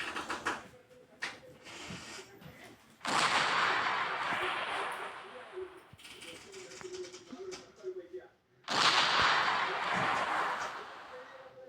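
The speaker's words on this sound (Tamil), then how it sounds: "AK-47 ஒன்று எடுப்போம்." Video game AK-47 gunfire comes in two long, dense bursts of rapid shots, loud and close, with scattered single shots and clicks between them and a person talking throughout.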